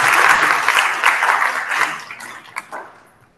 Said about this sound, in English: can we give a big round of applause for our panelists?